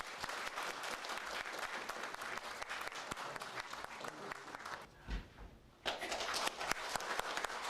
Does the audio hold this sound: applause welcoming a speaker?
yes